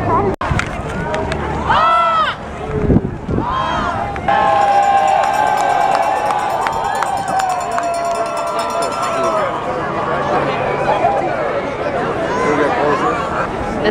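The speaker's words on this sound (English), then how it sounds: "I've never been in a crowd like this." A huge crowd at the Seahawks victory parade, a dense, loud, continuous roar of chatter and cheering all around. Nearby people speak over it and shout now and then.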